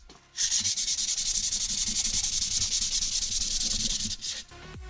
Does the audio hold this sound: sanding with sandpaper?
yes